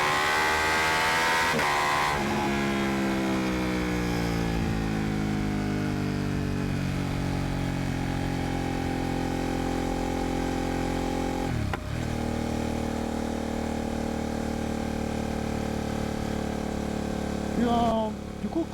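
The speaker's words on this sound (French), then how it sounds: "quand on est à régime comme ça constant, je suis en sixième, on entend le moteur" A motorcycle cruises at steady revs in sixth gear, its engine, exhaust and airbox producing a loud, smooth, rumbling drone that stays constant, with a brief disturbance partway through.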